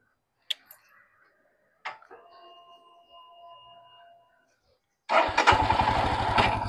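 A couple of sharp clicks, then a brief whirring crank before a Royal Enfield Himalayan motorcycle engine fires up and settles into a loud, rapid idle.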